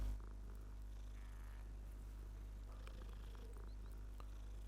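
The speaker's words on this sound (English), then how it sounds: "Oh, a cat." A cat purrs in the video game Hogwarts Legacy, a steady low rumble that holds for several seconds over a constant droning game hum and faint ambient clutter.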